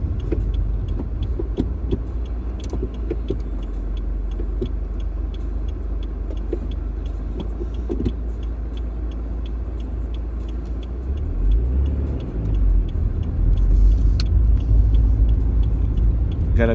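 A car creeps along slowly and gently with water in the back seat, its low engine rumble and road noise steady and close throughout, swelling a little louder near the end.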